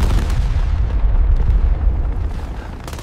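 Heavy explosions and gunfire rumble through an AI-generated war scene, with a dense, continuous low booming and bursts of crackling fire, loud and close, no voices.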